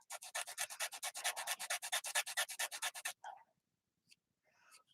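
A cork ornament is sanded against a table edge in quick, rapid back-and-forth rasping strokes for about three seconds, close up, followed by near silence and a few faint scrapes.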